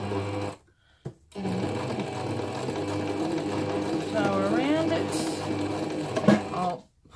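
A sewing machine runs a straight stitch on fabric for a journal front cover, whirring steadily and close for several seconds after a brief stop near the start, with a voice heard briefly over it.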